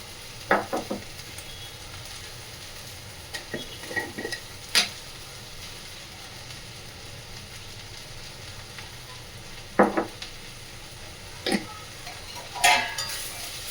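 A spoon stirring a dish with kokum and salt in a pan on low gas, giving sparse scraping and clinking taps over a faint steady sizzle.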